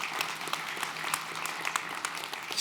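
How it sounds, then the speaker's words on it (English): Audience clapping in a church setting, a dense, steady round of applause with scattered louder individual claps, no talking over it. "you can clap for that, for sure."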